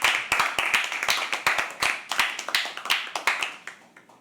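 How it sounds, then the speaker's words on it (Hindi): Audience at a poetry open mic clapping for the next act, a modest, fairly quiet patter of individual claps in a small room that gradually thins out and fades. "please clap for next act"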